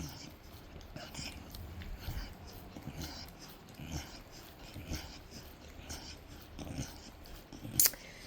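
A dog chews and licks a frozen treat nearby, with wet gnawing, soft snuffling breaths and occasional crunching bites in an irregular rhythm.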